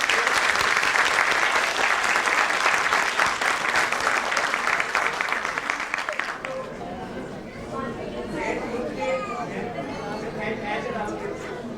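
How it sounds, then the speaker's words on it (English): Audience applause at a school annual day, loud and dense at first, then thinning into scattered claps and crowd murmur after about six seconds. "be very generous with their claps"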